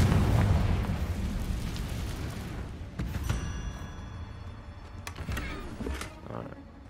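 Confringo fire-blast spell in Hogwarts Legacy bursts in a loud, rumbling explosion at the start, its roar decaying over several seconds, followed by a few sharper bangs and crackles.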